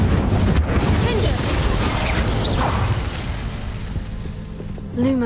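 Bombarda and Confringo spells go off in Hogwarts Legacy, a dense churn of blasts, crackles and whooshing magical effects layered loudly throughout with game mechanisms rumbling beneath.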